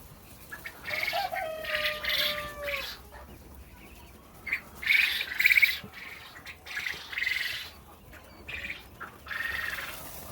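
Quail chicks on a farm, in a brooder after a night without heat, chirp in short high-pitched bursts that come and go in several clusters, with no voices over them.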